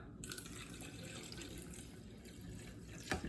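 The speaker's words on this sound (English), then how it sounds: "So I'm gonna just add the water." Water poured into a blender jar holding peanut butter and chili, a steady soft splashing rush for a few seconds ending in a brief louder slosh.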